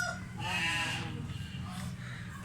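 A male goat at a livestock market in Dera Ghazi Khan, Pakistan, lets out a drawn-out, wavering bleat. It is heard close by over a murmur of background market noise.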